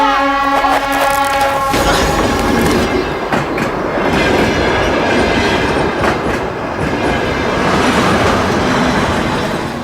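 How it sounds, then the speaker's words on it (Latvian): A train rumbles past close by, loud clattering wheels and a brief horn-like tone at the start giving way to a sustained roar, with voices shouting over it. "Skrien malā, vilciens!"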